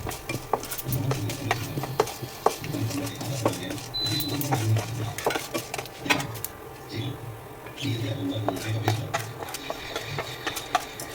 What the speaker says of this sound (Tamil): உளுத்தம் பருப்பு கடலைப்பருப்பு சேர்த்துடுறேன் இதையும் சேர்த்து இது கொஞ்சம் நல்லா பொன்னிறமாகிற வரைக்கும் நம்ம வறுத்துடலாம்